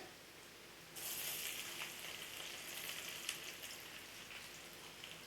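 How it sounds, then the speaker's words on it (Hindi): Dried red chili and garlic dropped into hot oil in a kadhai, breaking into a sudden steady sizzle that keeps crackling and popping softly and evenly, with no talking. "इसी तेल पे थोड़ा सूखा मिर्ची फ्राई कर लेंगे। ये लहसुन भी ऐड कर देंगे।"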